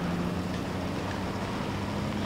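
Truck engine rumbling steadily in Fortnite, a continuous low drone at constant loudness with no talk.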